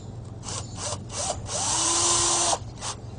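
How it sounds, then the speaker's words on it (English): Short screws driven into plywood with a power drill while building a bike lazy Susan: a few brief whirring bursts, then one longer steady drive of about a second, close and fairly loud. "Then I put each one of these screws in."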